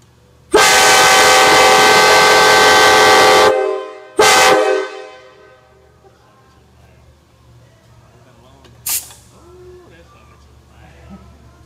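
A Nathan AirChime K5LA train horn blares a loud chord for about three seconds, then a shorter second blast, fading into quiet background noise.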